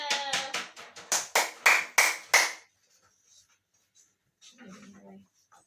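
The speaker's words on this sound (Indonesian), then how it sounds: "Ini beri tepuk tangan semuanya." A classroom group applauds together in a counselling session, a burst of quick clapping about two and a half seconds long that swells and then stops, followed by quiet room sound and a brief murmur of voices.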